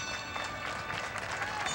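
Parade crowd applauding and cheering for marching handbell ringers at the 1984 Grand Floral Parade, a dense steady wash of clapping with bright bell-like tones ringing through it, continuous and moderately distant.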